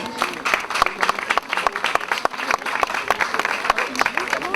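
Audience applause at an award ceremony, dense sustained clapping from a sizable crowd with no voices over it.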